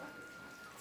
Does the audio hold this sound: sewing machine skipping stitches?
no